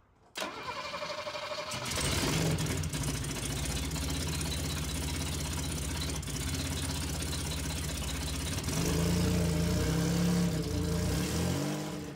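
A Mercedes R107 with a new alternator voltage regulator cranks briefly, catches and settles into a steady, close idle, with a brief rev partway through the otherwise even running.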